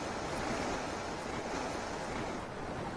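Ocean waves at a quiet seaside spot make a steady, unbroken wash of surf, moderately faint with a breezy hiss and no voices.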